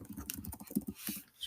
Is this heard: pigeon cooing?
no